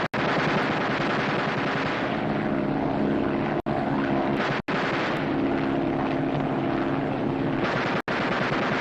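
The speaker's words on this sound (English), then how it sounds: "Fire 3 bursts each in rotation" Machine gun bursts fired at aircraft during a gunnery exercise, a dense, loud rattling roar that barely breaks for almost nine seconds, with aircraft engine drone mixed beneath it.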